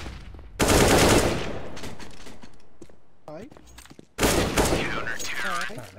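Rapid automatic gunfire exchanges in the Counter-Strike video game, in two dense loud bursts separated by a quieter stretch of scattered shots and game effects, with voices talking.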